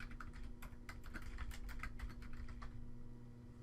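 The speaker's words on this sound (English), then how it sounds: "Type your user ID and password in the respective boxes and click enter." Rapid keystrokes on a computer keyboard while entering a user ID and password, a steady run of crisp close clicks over a low constant hum, with no talking.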